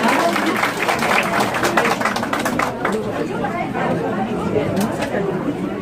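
Applause and crowd chatter fill an office-opening ceremony for a Gimcheon mayoral pre-candidate as a guest is introduced, with dense clapping mixed with voices throughout and easing slightly toward the end.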